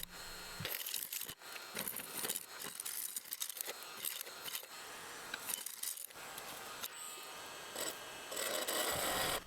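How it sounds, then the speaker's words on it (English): Wood lathe turning a manzanita burl blank mounted between centers, a tool trimming away epoxy with harsh scraping and rasping bursts and irregular cutting chatter, close and loud, with no speech. "I mount the blank within centers and start trimming down the epoxy"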